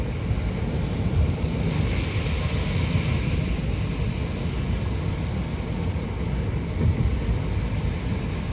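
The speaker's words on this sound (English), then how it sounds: "A lot of water coming off the mountains onto the roads." Heavy rainwater rushing off mountainsides onto roads after a day of rain, a steady close roar of running water with wind noise and no talk.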